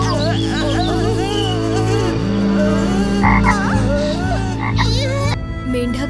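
A cartoon frog king croaks in a loud, warbling stream of calls over background music, ending with a sharp break and a few more croaks.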